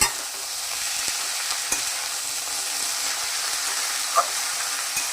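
Radish greens stir-fry in a dry pan with sugar, turmeric and salt, producing a continuous close sizzle broken by occasional sharp clicks and scrapes of a spatula.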